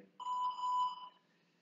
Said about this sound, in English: that's the buzzer, let's get going.